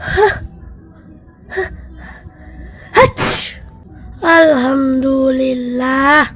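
A single sharp sneeze bursts out, followed moments later by a person speaking in Indonesian.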